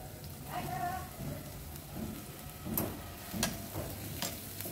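Green beans are stirred in a hot pan for a vegetable Maggi noodle dish, with a soft sizzle, light scraping and faint clicks of the spatula, quiet and close.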